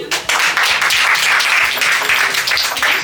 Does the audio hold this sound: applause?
yes